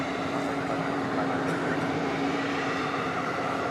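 Steady, continuous jet roar of an airliner on the runway at DFW Airport at night, a broad even rumble holding at constant level throughout without pauses.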